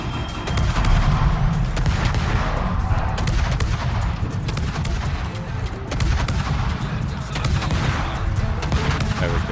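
Warship guns boom and rumble in World of Warships, heavy deep volleys rolling one after another over a constant low battle roar, loud and dense throughout.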